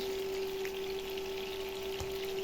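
Steady, dense sizzling of flounder (sea fish) frying in a pan, a constant crackle with a faint hum underneath and no voices.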